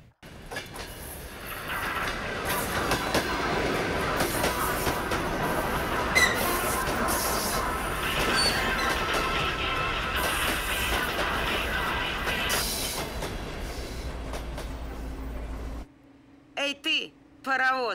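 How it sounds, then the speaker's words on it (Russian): A passenger train rolls along the rails in a long, steady rumble with clickety-clack and faint squeaks, heard from on board, then cuts off to quiet with brief voice-like sounds at the end. "Я люблю этот поезд, который никуда не спешит и никогда не опаздывает."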